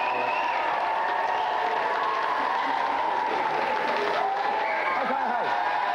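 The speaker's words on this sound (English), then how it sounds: "let's have a big round of applause for all of our contestants." A studio audience on a 1993 video game TV show applauds the contestants, a steady wash of clapping that carries through with the host's voice faintly underneath.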